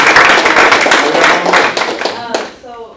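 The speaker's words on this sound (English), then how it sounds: "Let's give a round of applause to our..." Applause and clapping from a crowd, dense and steady, fading out near the end.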